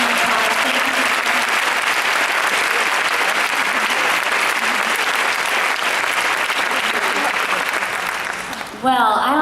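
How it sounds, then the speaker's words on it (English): Loud, sustained applause from a conference audience after a speaker finishes, thick continuous clapping close up that holds steady for several seconds and then fades at the end as a voice starts talking. "Give her a nice round of applause."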